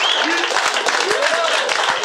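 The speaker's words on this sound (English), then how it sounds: "if you're clapping at the Waze joke" A comedy club audience breaks into sustained applause and clapping after a joke about the Waze navigation app, a dense, even wash of hands with some cheering voices mixed in.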